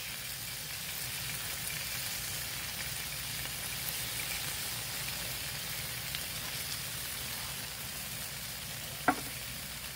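Soy sauce sizzling on a hot griddle over tofu pieces, a steady close hiss of frying that holds evenly throughout, with one brief sharp tap near the end.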